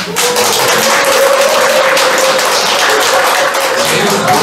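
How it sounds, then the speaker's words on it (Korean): A seminar audience at a labor union anniversary debate gives dense, loud applause that holds steady for several seconds, with a faint voice audible beneath the clapping. "박수가 많네요"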